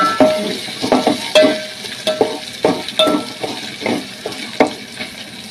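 A spoon stirs onion, tomato, mint, green chilli and ginger-garlic paste sizzling in a pan for tomato upma, with roughly a dozen rhythmic scraping strokes over a soft frying crackle and no talking.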